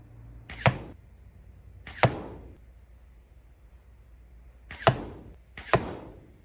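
Four sharp arrow impacts on a target, each a crisp thwack with a short decaying tail, spaced unevenly over several seconds in an otherwise quiet outdoor setting with a steady high insect-like hum.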